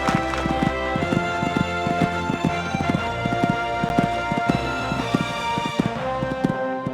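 Hooves beat in a steady rhythm as a horse canters along a cross-country eventing course. The footfalls are close and regular over a constant hum, with no voices.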